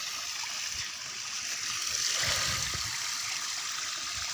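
Water flowing out of an underground irrigation pipe line in a village field makes a steady, soft rushing and splashing stream, with a slightly fuller gush near the middle.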